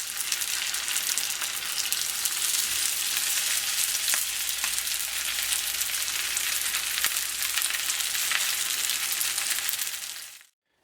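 Samosa briouates frying in oil in a pan over medium heat, giving a steady, dense sizzle that holds evenly for about ten seconds and then cuts off abruptly.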